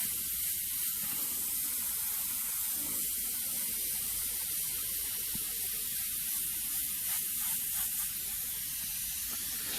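An airbrush sprays paint while painting a skull, a steady, soft continuous hiss with slight fluctuations and no talking.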